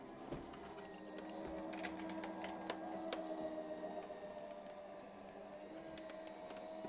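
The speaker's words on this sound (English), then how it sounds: "So then we'll send this through the machine" A handmade gatefold card with cutting and base plates feeds through a die-cutting machine, a steady mechanical whirring and grinding with faint clicks, close and continuous for several seconds with no talking.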